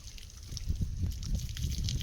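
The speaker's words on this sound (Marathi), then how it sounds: "आता पाणी प्यायला लागल्या." Water splashes and trickles as buffaloes drink, giving soft irregular slurps and sloshes close by over a low background rumble.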